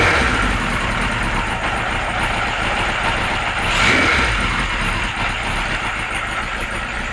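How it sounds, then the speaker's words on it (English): A Kawasaki Z1 motorcycle engine idles at low revs, a loud, steady, close rumble with a brief swell in the middle and no talk over it. "that's ticking over about 500 revs according to the rev counter"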